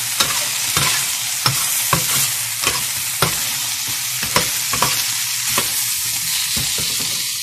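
Squid curry paste stir-fried in a little oil, a constant bright hiss and sizzle broken by regular sharp spatula taps against the pan, close and steady, no talking.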